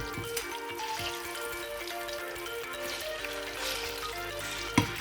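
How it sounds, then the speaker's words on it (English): Plantain frying in hot oil, a steady close crackling sizzle with scattered pops and one sharper spatter near the end, heard alone. "we are just going to fry the plantain"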